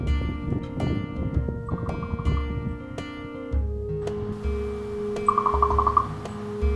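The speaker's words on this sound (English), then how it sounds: "That's the sound of a crow. It's really cool." A crow gives short pulsed clicking rattles twice, distant and moderately faint, over steady wind noise and low rumble in golden grassland at the Wind Wolves Preserve in Southern California.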